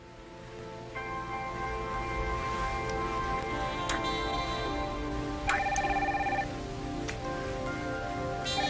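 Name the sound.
telephone ringing in a film scene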